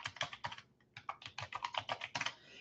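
A password is typed on a computer keyboard as a quick run of crisp, close key clicks in uneven bursts, with a brief pause partway through and no talk.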